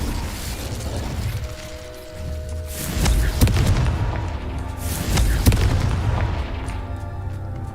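Fire and explosion spells cast in the Hogwarts Legacy video game burst out as a series of booming blasts with sharp cracks, two big swells of rumbling impact noise over steady background sound.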